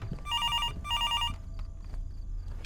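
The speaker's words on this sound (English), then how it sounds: "There was a ringing beside her" An old-style telephone bell rings twice in quick bursts, loud and close, followed by quieter soft thumps and movement sounds.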